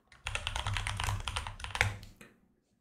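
Close, quick keystrokes clatter on a computer keyboard in a short burst of typing lasting about two seconds, then stop and leave silence.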